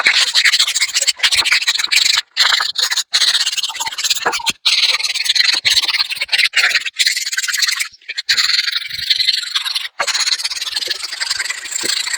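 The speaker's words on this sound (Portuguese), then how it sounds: "Essa primeira lixagem, por assim dizer, com a lixa um pouquinho mais grossa, um pouco mais áspera." Coarse sandpaper rubs hard against a wooden berimbau stave in loud, continuous rasping strokes, broken by brief pauses between passes.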